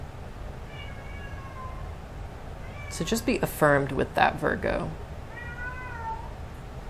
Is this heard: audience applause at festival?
no